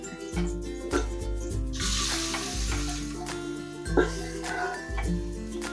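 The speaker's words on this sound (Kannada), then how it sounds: "ಇಟ್ಕೊಂಡಿರೋಂಥ ಚಿಕನ್ ಹಾಕ್ತಾ ಇದ್ದೀನಿ" Country chicken pieces are tipped into hot oil for a village-style nati koli sambar and sizzle steadily. The frying hiss runs close and continuous under a layer of steady tonal background sound.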